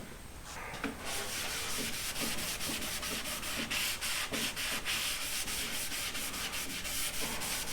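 A cloth rubs wood stain into soft wood in quick, regular back-and-forth strokes, a close, dry scrubbing rasp repeating steadily without any talk.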